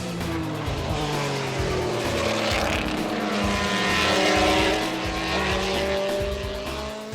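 An Indy Lights race car drives past, its high-revving engine whining steadily with rising and falling pitch over several seconds, loud and close, with a faint tire squeal and no speech.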